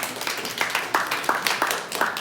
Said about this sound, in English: Give yourselves a big round of applause for being here this morning.